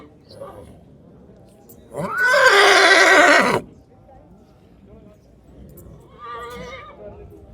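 At a dairy farmers' fair in Kurukshetra, Haryana, a loud, shrill horse whinny rises and shakes for about two seconds, followed later by a shorter, fainter neigh over a quiet background.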